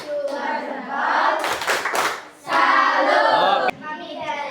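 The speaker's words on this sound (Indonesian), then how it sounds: "Satu, beri tepuk salut" A group of children performing a rhythmic salute clap routine, two bursts of bright, fast hand claps separated by quieter voices, close and lively.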